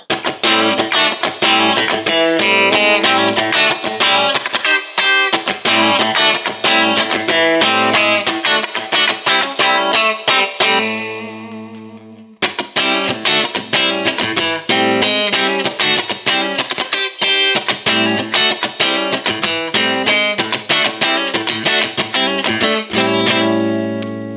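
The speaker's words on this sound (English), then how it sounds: "Now I'm going to pull up the tone control and engage the coil split." A distorted electric guitar, an ESP LTD Mirage Deluxe 87 superstrat with coil split engaged, plays dense, driving riffs with a bright, thin edge, loud throughout, one chord left ringing out briefly before the playing resumes.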